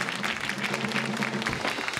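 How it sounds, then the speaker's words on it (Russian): Studio audience applause on a 1998 Russian Lotto television draw, a steady wash of clapping with a faint tonal hum running beneath it. "Мы аплодируем тем, кто играл, кому повезло сегодня."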